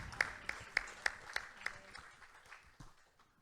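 A church congregation clapping in a steady rhythm, faint and somewhat distant, with the beats slowly softening and thinning out toward the end.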